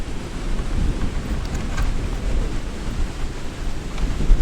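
Strong wind gusts across open water during a shallow-rock smallmouth bass fishing outing, a dense, steady roar of buffeting wind noise that swells and eases slightly but never drops out.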